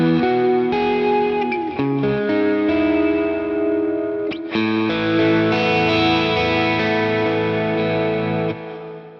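An electric guitar plays through a Boss Katana amp with modulated reverb and a long pre-delay, sustained distorted chords ringing with a shimmering wash and a lingering tail, no talking.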